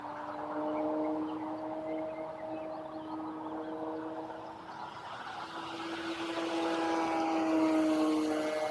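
An E-Flite Night Timber X RC airplane flying at full throttle, its electric motor whining in a steady sustained tone that drifts in pitch, dips slightly midway, then swells louder as it passes nearer.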